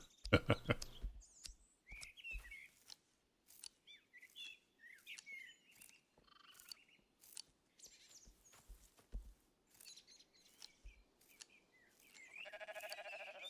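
Sheep in the video game Rising World bleat in short repeated calls among chirping birds and clicking footsteps, ending with a louder drawn-out bleat.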